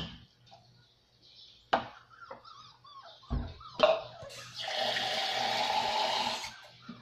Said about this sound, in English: Just put little bit of water.